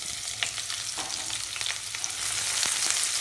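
Chopped medium onion frying in hot spiced oil for Hyderabadi bagara rice, a steady bright sizzle with scattered crackles and light stirring scrapes, close and continuous without talk.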